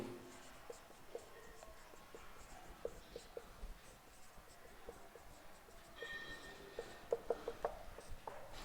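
Chalk or marker scratches across a board during a Hindi maths lesson on arithmetic progressions, faint intermittent strokes and taps over low room noise, with no speech.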